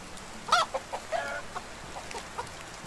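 Chickens and a rooster cluck in the Medieval Dynasty video game, a handful of short, soft clucks scattered at an irregular pace over quiet farm ambience.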